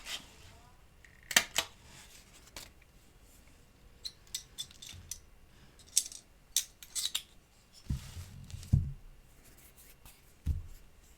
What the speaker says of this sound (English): Using my hole punch and scrap of red, I'm going to punch out a few little berries.